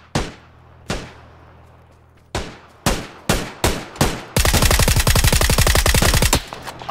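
Gunfire in the video game PUBG: several loud, spaced single shots ring out one after another, then a fast sustained burst of automatic fire, close and sharp with little else around.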